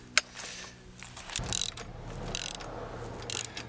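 A spring compressor being tightened on a car shock absorber during a shock replacement, giving close mechanical ratcheting clicks in short bursts with brief pauses between them, no voices.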